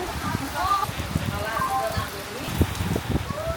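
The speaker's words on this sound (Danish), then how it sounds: "Så stormen har lige ramt os." Heavy rain pours down during a storm in Brazil, a dense steady patter with scattered louder drops, while people talk over it.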